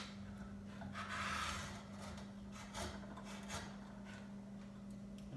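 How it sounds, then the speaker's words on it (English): Wood being carved by hand with a chisel pushed under hand pressure, quiet scraping and rubbing strokes over a steady low hum, soft and close with no talking. "I'm just going to come in and use hand pressure to carve this."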